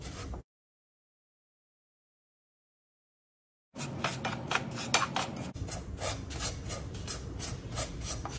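A spoon scrapes and rubs steadily through milk powder roasting in ghee in a pan, a dry rasping stir heard close after a long silent gap.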